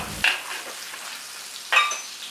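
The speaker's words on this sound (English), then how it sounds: "Saute the minced garlic and shallots until fragrant" Minced garlic and shallots sautéing in prawn oil in a wok for pad Thai, a steady close sizzle with two sharp stirring scrapes of the spatula.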